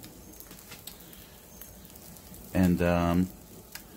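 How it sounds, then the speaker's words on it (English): Pork roll frying in a pan gives off a soft continuous sizzle in a quiet kitchen, briefly interrupted by a single spoken word. "you can hear the beautiful sound of the sizzling pork roll."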